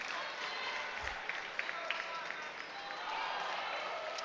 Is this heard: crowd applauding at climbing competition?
yes